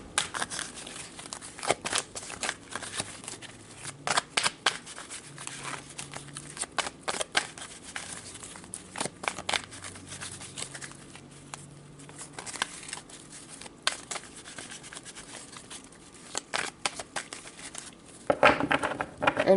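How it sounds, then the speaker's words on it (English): Tarot cards are shuffled by hand, producing repeated crisp riffling and slapping bursts in irregular rhythm, close and fairly loud, with no talking. "So I'm going to pull a couple of cards to see what hinders you guys."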